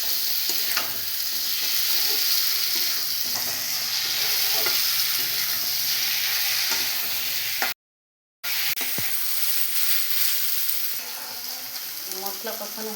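Fried sattu is stirred with spices in a pan, giving a steady loud sizzle with scraping spoon strokes throughout, broken by a brief total silence midway before the frying resumes.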